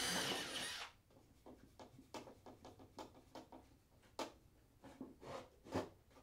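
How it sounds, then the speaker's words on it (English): A power drill bores screw holes into a wooden box, heard as a run of short, separate bursts after a loud opening, each spaced by brief pauses and fairly close. "mark the holes and then drill out those holes for number 5 screws"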